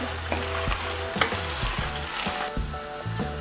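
Vegetables stir-frying in a hot pan for a funchoza salad, with steady sizzling and scraping stirring strokes, close up and without speech.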